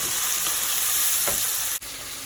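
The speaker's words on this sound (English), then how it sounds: "While the tomatoes are over here simmering" Tomato masala for shahi daal simmers and sizzles loudly in a pan, a steady close frying hiss with a brief break near the end and no voices.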